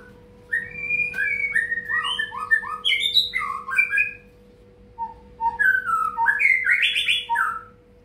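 A tame, long-tailed white-rumped shama in a hanging cage sings in clear, loud, varied whistled phrases, with a short pause in the middle before a second burst of song.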